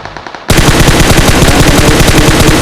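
PUBG gunfire: after a brief quieter moment, a loud, sustained burst of automatic weapon fire erupts, with rapid, closely spaced shots and dense, continuous crackle, and no voices.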